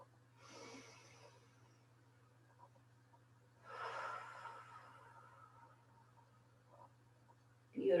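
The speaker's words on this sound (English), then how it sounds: "So take a deep breath in and slowly exhale." Slow, deliberate breaths during a guided breathing exercise: two soft, airy breath sounds, the second a fuller exhale, heard close and quiet against a steady low hum, with a brief louder breath at the very end.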